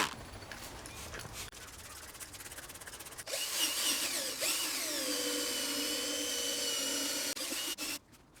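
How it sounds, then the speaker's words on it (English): A drill-driven brush scrubs carpet cleaner into the carpet of a 20-year-old BMW 7-Series, a steady close whirring grind that gets louder and harsher midway as the bristles bite into the fibers, then cuts off near the end. "Then use the drill brush to really agitate and lift the deep down dirt from the fibers."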